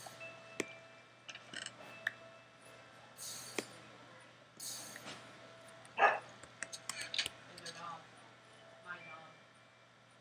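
A dog barks a few short, faint times in the background of a Minecraft SkyBlock session, under a steady hum and scattered game clicks.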